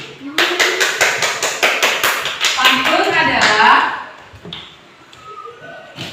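Classroom of students clapping for a classmate in a brisk, even rhythm of sharp claps close by, lasting a couple of seconds before dying away as a teacher's voice carries on.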